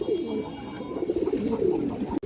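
Black-necked pigeon chicks coo in low, soft, repeated throaty murmurs close by, overlapping in a steady burble.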